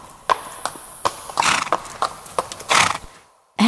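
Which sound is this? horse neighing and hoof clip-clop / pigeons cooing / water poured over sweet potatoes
horse neighing and hoof clip-clop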